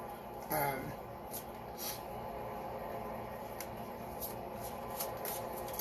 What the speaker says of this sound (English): when I shuffle them, I count, like for Tina